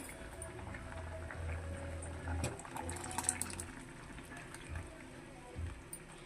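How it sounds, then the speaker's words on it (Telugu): Boiled toor dal is poured into a pot of sambar, making a quiet, wet sloshing and trickling sound at close range, soft and intermittent. "ఇప్పుడు ఇందులో ఇందాక ఉడకబెట్టుకున్న కందిపప్పు పోసేసుకుందాం"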